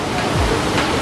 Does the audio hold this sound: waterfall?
yes